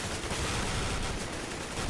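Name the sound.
gunfire in a competitive shooter video game match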